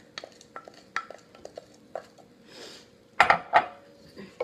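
Puffed quinoa being added and stirred into an almond butter mixture in a bowl, giving scattered clinks and scrapes of a utensil against the dish with a brief burst of louder clatter, close and alone.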